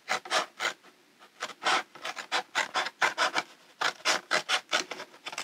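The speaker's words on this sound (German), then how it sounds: "Und so schneiden wir den ganzen Teller einmal das Mittelteil hier raus." A plate is cut through to remove its middle for a homemade frisbee, giving close, rhythmic rasping strokes in quick bursts, like a blade sawing back and forth through thin material.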